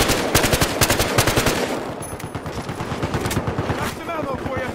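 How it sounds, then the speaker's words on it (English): Heavy gunfire rattles through a 64-player Conquest match in Battlefield Hardline, with rapid automatic bursts close by and a dense string of shots that thins toward the end, amid faint in-game voices. "right here, taking heavy fire!"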